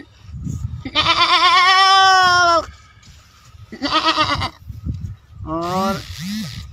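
A human voice imitates a goat's bleat three times, first a long wavering bleat, then two shorter ones, close and loud.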